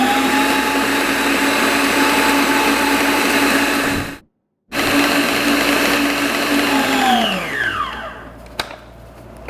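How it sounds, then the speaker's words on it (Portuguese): An electric stand mixer whipping eggs with sugar for a chocolate sponge batter, a loud steady motor whine that stops briefly, restarts, then winds down, with no talk. "Então agora nós vamos bater por 10 minutos para ficar bem airada."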